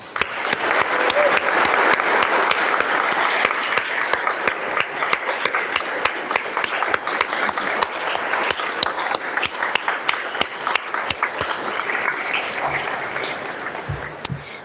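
Sustained applause fills a state House chamber as lawmakers welcome newly elected representatives, many hands clapping steadily for about fifteen seconds.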